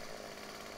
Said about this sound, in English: Oh, no, the chainsaw's so loud.